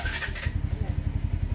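A motorcycle engine runs with a quick, even low putter, close and moderately loud, after a brief rougher burst at the start.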